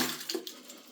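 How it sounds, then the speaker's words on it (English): Tap water running into a kettle or sink, a soft steady splashing stream heard close by for a brief moment. "let's get some water in"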